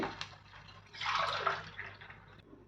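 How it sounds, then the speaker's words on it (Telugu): A short splash of water poured into a pan for upma, a brief gushing burst that quickly tapers off, heard alone and fairly soft. "ఆ కప్పుతో 3 కప్పులు వాటర్ వేసుకోవాలి"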